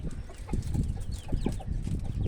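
Domestic chickens cluck in a run of short, soft calls during bad weather, set against a heavy low rumble of wind or background noise, with no one speaking.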